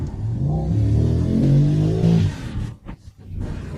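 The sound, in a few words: Mercedes Maybach SL 680 engine revving in sport mode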